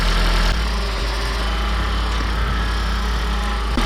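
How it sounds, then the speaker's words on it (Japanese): Toyota Prius Alpha hybrid running on its engine after switching over from electric power, a steady low idling hum with faint vibration heard up close, no talking. "通常のこの音、エンジンに切り替わった音、これは正常なんでしょうかね。"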